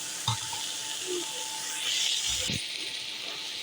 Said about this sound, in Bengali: শাক ভাজি প্রায় শেষের মধ্যে আর একটু ভাজি করে নেব।